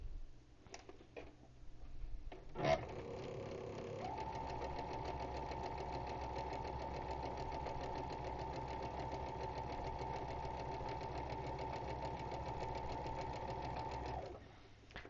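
A sewing machine stitches cotton fabric pieces cut on the bias in one long, even, rapid run of about ten seconds after a few clicks and a thump at the start; close, steady and moderately quiet, with no talk.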